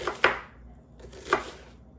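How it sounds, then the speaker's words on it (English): A knife slices onions very thin on a cutting board, giving two crisp, separate chopping strokes about a second apart with quiet pauses between them. "I like to cut my onions really, really thin"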